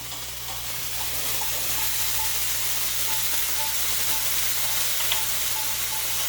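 Keto shrimp fried rice with mixed vegetables, ginger, sesame oil and soy sauce sizzles steadily in a pan, a continuous frying hiss with faint scraping stirs throughout and no talking.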